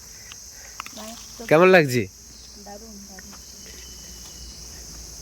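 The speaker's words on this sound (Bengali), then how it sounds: "একটা তীব্র ঝিঝি পোকার ডাক।" Crickets in a Kalimpong hillside forest give a steady, piercing high-pitched chirr through the whole stretch, while a person asks a brief question over it.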